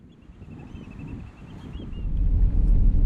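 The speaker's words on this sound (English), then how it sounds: "Yeah, that wind is fierce." Strong gusting coastal wind along 17 Mile Drive near Pebble Beach, a low rumbling buffet on the microphone that builds and grows louder toward the end, with a faint thin tone above it.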